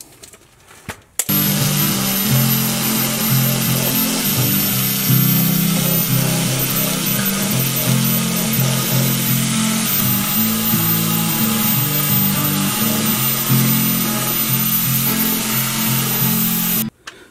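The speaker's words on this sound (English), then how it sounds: "I plan on using this mini belt sander" A mini belt sander grinds steadily and loudly at close range, scrubbing surface rust off the unibody of a Jeep Cherokee in one continuous run that stops abruptly at the end.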